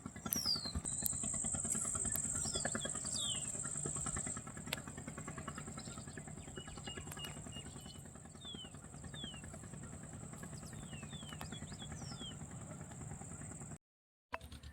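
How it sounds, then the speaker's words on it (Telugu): A fisheries department boat comes in toward a bridge at a flooded village, its engine a steady, moderately loud drone with rattling clatter, no talk heard. "ఫ్రెండ్స్ బోట్ వస్తుంది"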